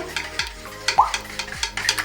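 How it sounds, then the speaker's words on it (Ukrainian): Steady rhythmic stirring in a bowl, a spoon dragging and scraping through thick pie dough with oil about once every half second, close up. "Тепер ми все розмішуємо."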